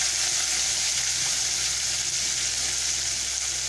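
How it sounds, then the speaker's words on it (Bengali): A spice mixture sizzles loudly and evenly in a hot pan, a dense unbroken frying hiss heard up close with no voices. "বেশ দু তিন মিনিট ধরে মশলাটাকে আমি কষে নিয়েছি"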